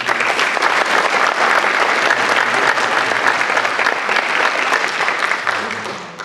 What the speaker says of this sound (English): So I'd like to give Paul Dietzel and Bill Broad a huge round of applause